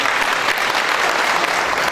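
An audience applauds at a 28 May Independence Day event held by Azturk Holding, dense, even clapping that fills the whole brief moment at close range.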